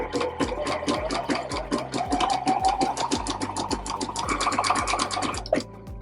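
A sewing machine stitching a straight seam down a fabric bread bag, running steadily with a rapid, even needle clatter and motor hum, loud and close, with no talking.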